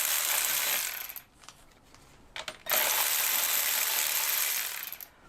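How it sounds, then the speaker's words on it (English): A hand ratchet loosens throttle body bolts on a 1990–94 Lexus LS400, giving dense, fast clicking in two long runs separated by a quieter pause with a few isolated clicks, close up and alone. "I do have a good amount of leverage with my nice ratchet here."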